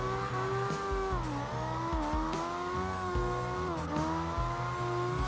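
Drifting car in the CarX Drift Racing 2 game, a Phoenix NX engine droning at high revs with repeated gear-shift dips, a steady pulsing exhaust note and faint tire squeal, no talking.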